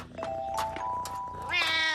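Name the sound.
cat meowing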